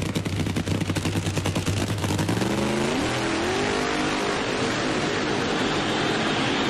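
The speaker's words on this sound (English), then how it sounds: "Al's going to warm up those big rear tires on this Pontiac body punty car" A Pontiac-bodied drag race car roars loudly and steadily as it warms up its big rear tires at the 1996 NHRA Gatornationals. The engine note rises in pitch partway through and blends into a sustained close-up blare with no talking.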